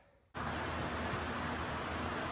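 Electric fan running steadily in a hot garage during a Mini Cooper Countryman engine teardown, a loud broadband whoosh that kicks in abruptly and holds constant with no talk.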